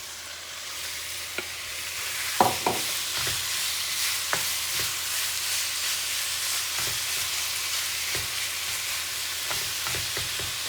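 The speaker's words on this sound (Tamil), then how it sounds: "அதே சட்டியில் நாங்கள் இனி சிக்கனை வதக்குவோம்" Chicken sautéing in a frying pan for a chicken wrap, a steady close sizzle with intermittent scraping and clinks of stirring, no voices.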